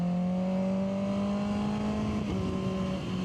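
Kawasaki ZX6R sport bike with an aftermarket exhaust can, a steady droning engine note holding fairly constant revs as it rides along, a slight pitch dip near the end, no voices.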